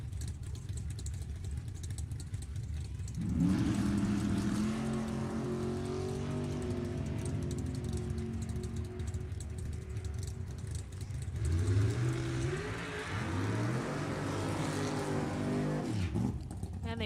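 A 1963 Chevrolet Nova and a 1995 Ford Mustang at a drag strip, engines idling and rumbling before loud revving launches and accelerating runs, heard at a distance with an announcer's voice over the track.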